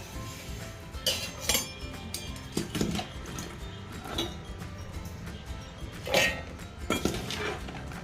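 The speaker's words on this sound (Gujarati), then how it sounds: "બધા જ ચણાને મિક્સર જારમાં ઉમેરી દીધા છે" Soaked and drained black chickpeas tipped into a mixer grinder jar for kebabs, making scattered light clinks and rattles against the jar, with a few brighter taps at close range.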